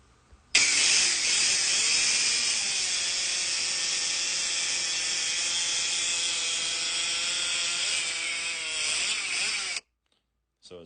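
Husqvarna 395 chainsaw fitted with a SCARR carburetor and intake kit, cutting through wood at full throttle with a loud, sustained high-pitched snarl that runs for about nine seconds and then stops abruptly.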